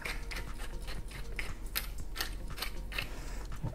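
A pepper grinder is twisted to crack pepper for a shrimp sushi roll, giving rapid, close ratcheting clicks and gritty crunching in an even rhythm.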